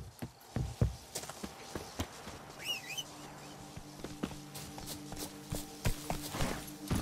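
Horse hooves from The Witcher 3, a quiet irregular clatter of hoofbeats and footfalls with faint bird chirps and a soft background hum, no talking.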